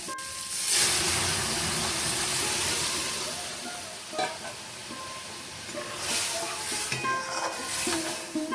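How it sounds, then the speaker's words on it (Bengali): Boiled masoor dal poured into a pan of frying prawn masala, giving a steady loud sizzle and hiss with stirring scrapes that swell again near the end, no talking. "এবার আমি মুসুর ডালটা ঢেলে দেব, সেদ্ধ মুসুর ডালটা।"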